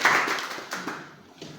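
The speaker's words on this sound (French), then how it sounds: "Donc applaudissez pour vous-même." Short burst of audience applause at a French-language workplace gathering, a quick round of clapping hands that starts strong and tapers off within two seconds.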